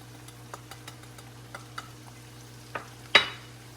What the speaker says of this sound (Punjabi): ਚੰਗੀ ਤਰ੍ਹਾਂ ਆਪਾਂ ਇਹਨਾਂ ਨੂੰ ਹਿਲਾ ਦੇਣਾ ਹੈਗਾ